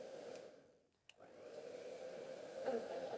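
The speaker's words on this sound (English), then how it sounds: "then just gently from a distance drying her little head." A hair dryer blows steadily and close by on a puppy's head during a grooming session, running with its nozzle removed and held at a gentle distance. The whoosh briefly dips and cuts out near the middle before resuming at full strength.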